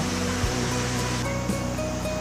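Water rushes steadily down a mountain valley stream below Yongmunsan at Yongmunsa in Yangpyeong, Gyeonggi-do, an even close roar with a faint tonal hum running through it.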